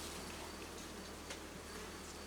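Honey bees buzz around an open hive during a May inspection, a dense, steady drone close to the microphone with no talk.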